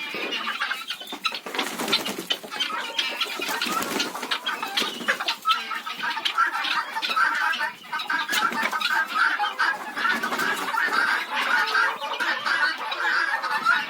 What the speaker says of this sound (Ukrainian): Курочки мої хороші.